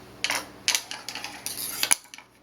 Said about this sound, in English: Then I take the scissors.